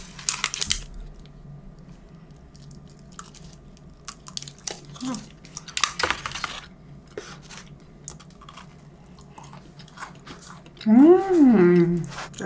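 Someone eating jjajangmyeon, with soft intermittent chewing and slurping sounds close to the microphone, quiet gaps between bites, and a short burst of louder tonal sound near the end.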